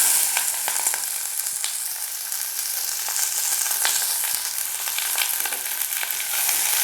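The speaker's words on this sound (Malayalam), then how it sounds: "അങ്ങനെ നമ്മുടെ ഉള്ളിയെല്ലാം ഇട്ട് ഇളക്കി കൊടുത്തു" Chopped onion, shallots, green chili, ginger and garlic frying in hot oil for a beef curry, a loud, bright continuous sizzle broken by occasional scraping stirs, close up.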